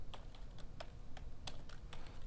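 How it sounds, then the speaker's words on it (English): Java code being typed on a computer keyboard: a steady run of quick clicking keystrokes at an even pace, fairly close and quiet, with no speech over it. "You should be getting used to typing this by now."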